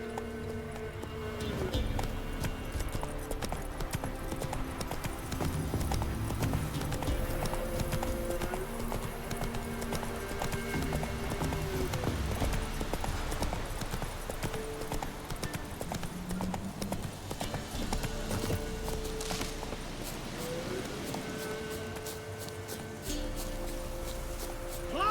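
Horse Roach's hooves clip-clop in a steady galloping rhythm in the video game The Witcher 3, continuous for the whole stretch under game music and battle sounds.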